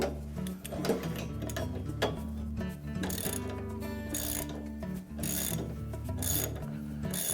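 A hand ratchet clicks repeatedly at close range while tightening the drive pulley on a General Electric washer, giving a busy run of short mechanical clicks and grinding with no voices.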